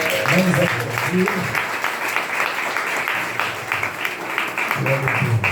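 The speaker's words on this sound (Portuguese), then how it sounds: "Vamos aplaudir." Wedding guests applaud in a dense, steady wave of clapping that lasts the whole time, with voices and singing mixed in underneath.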